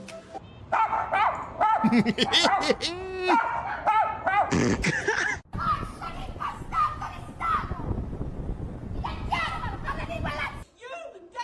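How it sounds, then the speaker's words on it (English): Leashed dog barking repeatedly in a busy spot, sharp yaps and whimpers close by, mixed with people talking and laughing around it. "Sorry, get your dog."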